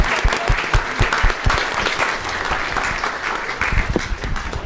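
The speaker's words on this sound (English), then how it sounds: "give these guys a round of applause" A school board meeting audience applauds the high school baseball team, with steady dense clapping filling the room loudly throughout, broken by occasional sharper individual claps.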